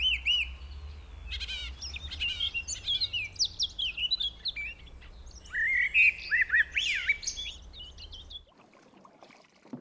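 Many birds chirp and call over one another in a reed-lined river valley in Narew National Park in spring, a dense chorus of songs from near and far over a low steady rumble, ending abruptly.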